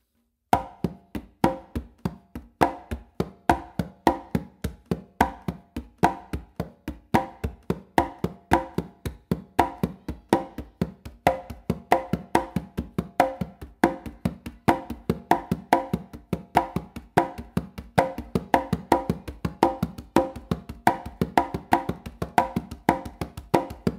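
Congas carry a full clave independence exercise through a long, dense, steady stream of rapid hand strokes, blending low bass tones with sharp slaps in an unbroken looping rhythm, close and loud with no voices.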